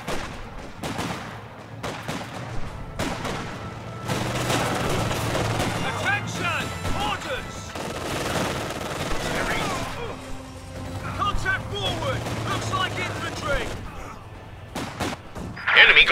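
Gunfire rattles from a Company of Heroes 2 battle on the Fields of Winnekendonk map, with bursts of shots and crashes running through most of the stretch at moderate loudness and dense battle noise beneath.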